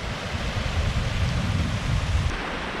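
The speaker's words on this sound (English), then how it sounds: "I'm literally pitched just at the top of a beautiful little waterfall." A small waterfall beside a hillside tent pitch pours steadily, giving a close, continuous rushing wash with no voices over it.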